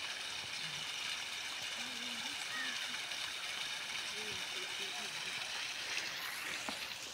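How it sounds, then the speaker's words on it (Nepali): Waterfall in a rural hillside area, heard as a steady, broad rushing hiss of falling water that continues throughout, with faint voices underneath. "ऊ झरना हेर्ने हो। यी झरना हेर्नु।"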